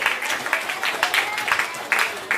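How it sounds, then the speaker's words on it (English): An audience claps for teachers at a school graduation ceremony, brief steady applause from a crowd in a hall. "Give them a round of applause."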